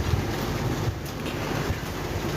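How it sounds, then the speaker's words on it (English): Steady wind from Storm Darragh roars and buffets a microphone outdoors, a constant low rumble with no voices. "Bit windy out around the back."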